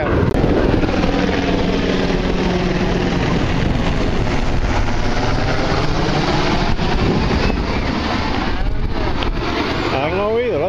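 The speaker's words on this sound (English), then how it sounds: "Stand by for aircraft." An aircraft passes overhead with a loud, sustained engine drone whose pitch slowly sweeps, with voices under it.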